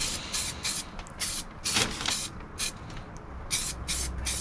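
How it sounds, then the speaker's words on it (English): Aerosol spray paint hissing in repeated short bursts under the bonnet of an Austin Allegro, worked around engine-bay cables, each burst close and fairly steady with brief pauses between. "I'm spraying around all these cables"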